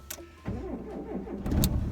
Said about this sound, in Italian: Adesso vedo se va in moto la macchina